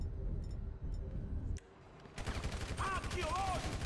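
Gunfire from a weapon in GTA 5, a dense rapid burst of automatic shots that starts after a short lull and keeps going loud, with a voice talking over it.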